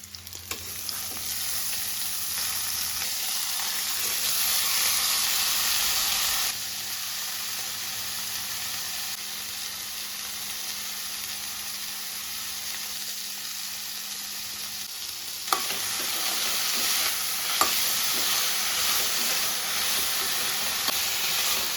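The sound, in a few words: vegetables frying with onion, garlic and chili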